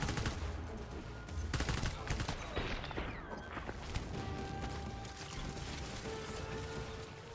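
Fully automatic non-lethal assault weapon fire in the video game Death Stranding, with rapid dense bursts of shots mixed with mechanical clanks and crashes over a busy game soundscape.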